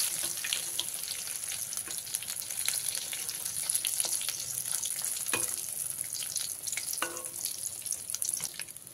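Cardamom pods and a bay leaf crackle in hot oil left over from frying katla fish, giving a steady close sizzle with scattered sharp pops and a few clicks throughout.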